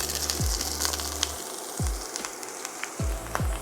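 Chicken breast stuffed with spinach and ricotta sizzles and fries in a pan just after being flipped, a soft steady crackle with a few low thumps of the pan being handled.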